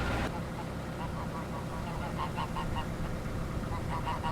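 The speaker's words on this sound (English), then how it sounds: "Are those geese bothering you?" Geese honk repeatedly in a noisy chorus at moderate distance from a narrowboat, over a steady background rumble.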